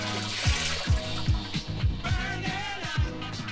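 A manual bilge pump in a boat's cockpit, pushing water out in a rhythm of repeated gurgling, sloshing spurts, close by and with no talking.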